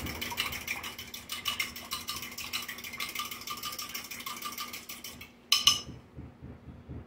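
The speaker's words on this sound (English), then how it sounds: "Make sure you mix it good so it's all dissolved" Dense, steady scraping and clinking of a spoon stirring bouillon into water in a container, close and continuous, briefly pausing near the end before a final few clinks.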